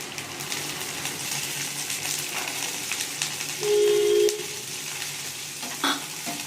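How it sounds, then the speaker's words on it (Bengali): Green peas fry with lightly browned onions in a kadai, giving a steady, close sizzle with stirring scrapes and a brief higher hiss partway through. "এবার আমি কড়াইশুঁটি এর মধ্যে একটু ভেজে নেবো।"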